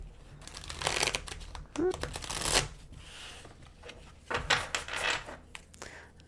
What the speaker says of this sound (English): Let's do a couple shuffles here.